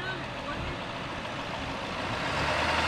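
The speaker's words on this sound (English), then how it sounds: "truck!" A truck passes on a city street, a loud broadband roar that holds steady and swells toward the end.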